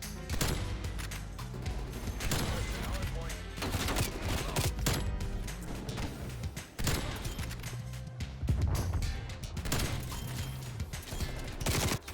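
Gunfire from the LW3 sniper rifle in Black Ops Cold War, heard amid dense, continuous game combat noise with repeated sharp shots and crashes throughout.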